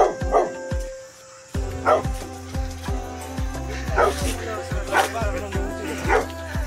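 Dog barks outdoors during a sightseeing walk near a temple with children playing nearby, sounding as a series of repeated sharp barks and yips, about six in rhythmic succession, fairly close and loud over a steady background.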